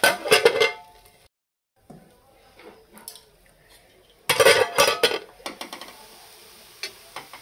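A metal lid clatters onto a pot of sabudana khichdi on the stove. Two clusters of sharp clinks and scrapes are separated by near-silence, and faint kitchen sounds follow.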